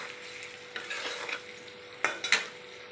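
Capsicum, onion and green chillies fry in a pan for chilli chicken, a soft sizzle broken by a few sharp scrapes and taps of a spatula stirring, close and quiet.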